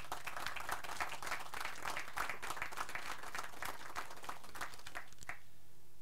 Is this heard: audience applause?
yes